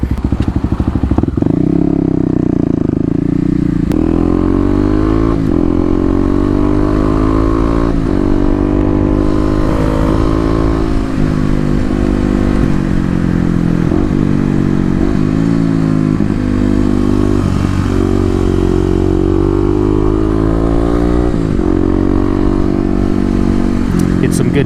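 Dual sport motorcycle riding and cornering around a lot, its engine droning steadily throughout with shifting pitch as it leans and changes speed, accompanied by constant wind rumble.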